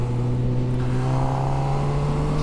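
Engine of a 2022 Honda CB1000R Black Edition naked motorcycle under way through a corner, a loud steady drone with strong low harmonics that rises slightly in pitch toward the end, with no talk over it.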